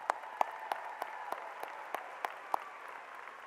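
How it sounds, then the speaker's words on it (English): A few distant, sparse claps ring out in a large high school graduation venue, spaced irregularly over a quiet, reverberant background as six students entering the military are honored. "Let's give them a applause."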